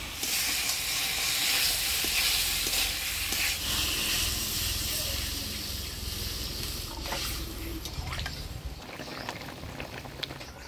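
A potato and okra curry with spices sizzles and simmers steadily after water is added, a continuous soft frying hiss with occasional stirring scrapes and small pops, fairly quiet.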